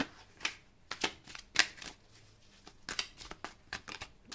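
A tarot deck shuffled with a series of sharp, close-up riffles and snaps that come at an uneven rhythm, quiet and clear with no voices.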